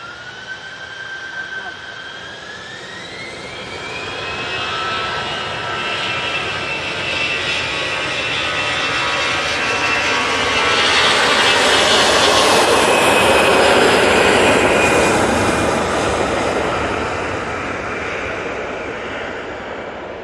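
An EasyJet jet airliner takes off from Manchester Airport, its roar building over about twenty seconds to a loud peak and then easing slightly, with a rising whine early on and faint talk in the background.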